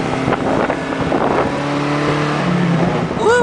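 An Alfa Romeo car engine with no muffler revs loudly and raw up close, rising and falling in a continuous growl with wind buffeting the microphone.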